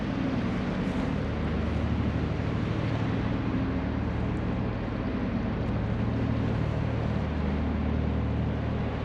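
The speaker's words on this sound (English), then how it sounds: "The Guernsey boys arriving on the Condor ferry in the Poole Harbour" A Condor ferry pulls into Poole Harbour, its engines giving a loud, constant low rumble and drone that holds steady without a break, with some wind buffeting and no clear talk.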